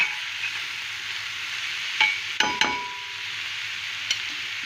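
Diced onion fries in about three tablespoons of unscented oil until golden, a steady soft sizzle alone with a few sharp clinks of a utensil against the pan.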